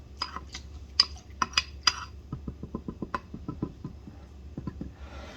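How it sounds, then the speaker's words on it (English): Bread dough mixture stirred in a bowl, giving a run of soft, quick knocks and clinks of a utensil against the bowl's sides, close and fairly quiet, with no talking. "You're gonna give this a good stir, a good mix."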